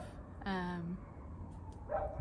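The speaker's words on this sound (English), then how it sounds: "On cue the dog" A single dog gives a short bark or yip indoors during a home vlog in Brisbane, followed by a softer second sound, with a quiet room tone and no speech over it.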